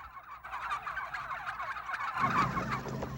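A turkey gobbles in a fast rattling burst that continues through the clip, close and clear with no voices, at a Thanksgiving-season turkey event in Cuero.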